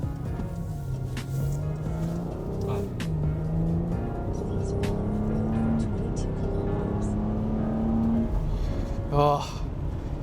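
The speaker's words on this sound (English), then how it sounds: "hear how great this V6 sound in this Porsche Cayenne." A 2019 Porsche Cayenne S V6 engine accelerates in automatic mode, its pitch climbing and dropping back at each gear shift, heard from inside the cabin while someone talks.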